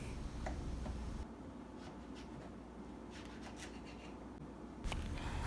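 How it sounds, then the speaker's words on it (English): Knife slicing through fresh okra on a cutting board, a series of soft, quiet taps and scrapes at an irregular pace, close by with faint background hum. "After I cut up this okra, I'm going to bread it and then I'm going to fry it."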